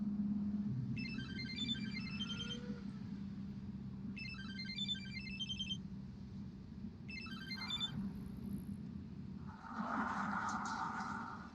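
A mobile phone ringtone plays in three repeated electronic bursts over a steady low background hum, fairly faint, followed by a brief rustle.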